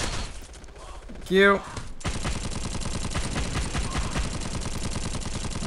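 A Lewis gun fires in the online shooter Bullet Force, sustained rapid fire rattling on without pause after a brief spoken thanks, loud and close.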